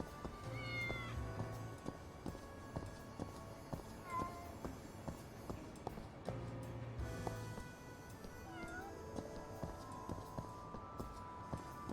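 Cats in Lost Judgment meow repeatedly, with several short rising and falling cries scattered across the scene over quiet street ambience and a faint rhythmic clopping, with no talking.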